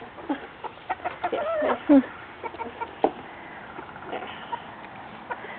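Backyard chickens clucking and squawking as they are hand fed, a busy cluster of close clucks with a sharp louder squawk midway, steady pecking activity throughout.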